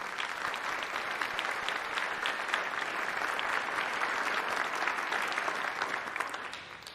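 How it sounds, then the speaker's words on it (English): Sustained audience applause at a Tacoma State of the City address, a dense steady wash of many hands clapping throughout, fading slightly at the end. "Please join me in a round of applause for all who dedicate so much time to make our city"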